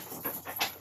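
A dog pants in quick, soft breaths, three or four short huffs close by and fairly faint.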